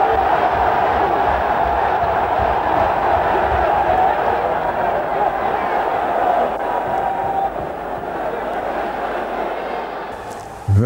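A boxing crowd applauds and roars for a fighter in a steady, dense wall of noise that holds for several seconds and eases slightly toward the end.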